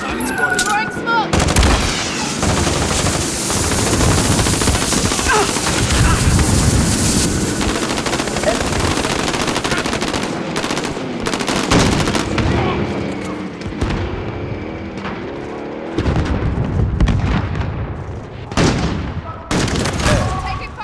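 Sustained gunfire in a Call of Duty Warzone battle, loud bursts of automatic weapons and heavy shots rattling near and far over about twenty seconds, with brief lulls and a few booms.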